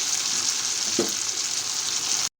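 Whole spices fry in hot oil in a pan with a steady, close sizzle; tomato drops in midway with a soft thud over the continuous hiss.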